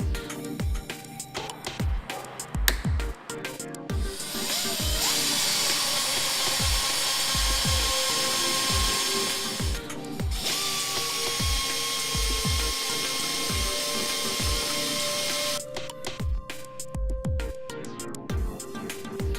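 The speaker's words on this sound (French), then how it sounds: "Coupez et poncez les embouts des agrafes pour la finition." Repair staples from a plastic welding kit have their ends cut off and sanded with a handheld power tool. A whining tool drones steadily with rhythmic low knocks and brief pauses, and no voices are heard.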